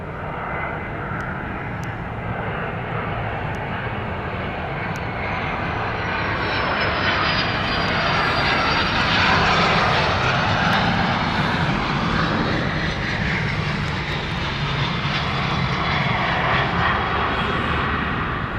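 An airliner arriving from Florence descends over London City, its engine drone steady and loud throughout, swelling slightly as it passes near, with no talk.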